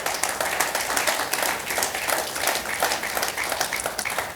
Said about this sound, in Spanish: Dele un fuerte aplauso al nombre de Jesús.